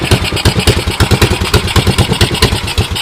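A 1987 Honda TRX200SX ATV engine runs just after its first start, a steady, loud, close chugging with rapid even firing pulses and some mechanical clatter throughout.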